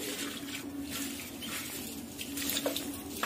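Water runs in a steady, even rush while plants are watered at home, with no voices over it and a slight rise near the end.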